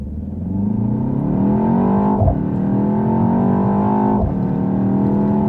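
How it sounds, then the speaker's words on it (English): A BMW X2 coupe-style compact SUV accelerates hard from a rolling start, its engine note climbing steadily through two gear changes, each marked by a brief dip before the rising pitch resumes, loud and close inside the cabin. "make like this rolling start. Then you can see speed and how quickly it accelerates."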